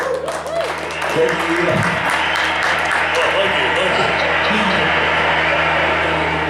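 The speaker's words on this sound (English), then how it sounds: "give H.D. Ainsworth a big round of applause" Crowd at a live radio remote broadcast in a honky-tonk bar, Bobby Mackey's in Wilder, Kentucky, breaks into applause, a dense, continuous clapping that swells and holds, with voices and chatter mixed in.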